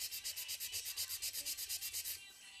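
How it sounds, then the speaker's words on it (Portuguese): A nail file works over a master gel (polygel) nail: a quiet, even series of about fifteen quick rasping strokes in steady rhythm, close up, then it stops. "colocando a parte reta da lima para baixo, vamos limar diretamente para esta linha"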